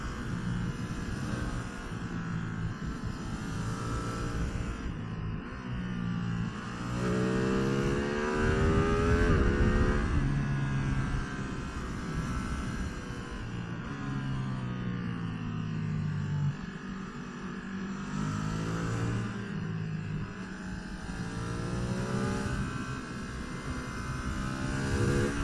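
A Ducati Streetfighter V2 motorcycle engine stutters and stumbles under throttle while riding in the Georgia mountains, an uneven droning rev that rises and falls over steady wind and road noise.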